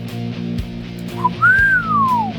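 A single clear whistle, rising then gliding slowly downward, sounds alone over a low steady hum.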